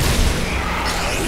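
Explosion in the video game Metroid in a frozen area, a dense, loud rumbling blast that fills the short moment and holds steady without a clear decay.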